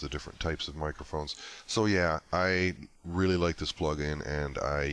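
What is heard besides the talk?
No distinct noise like a dog, phone or traffic.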